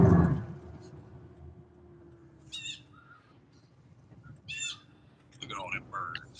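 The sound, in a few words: birds calling outdoors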